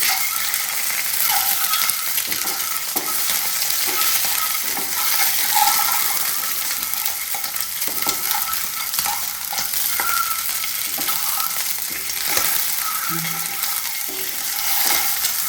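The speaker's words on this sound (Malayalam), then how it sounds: "ഇങ്ങനെ മസാല തേച്ചിട്ട് ഇങ്ങനെ പൊരിക്കും" Steady crackling sizzle of masala-coated eggs frying in hot oil for Arabic egg kabsa, with occasional scrapes and clinks of a utensil stirring, close and continuous with no talking.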